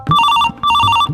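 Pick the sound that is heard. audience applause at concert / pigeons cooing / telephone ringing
telephone ringing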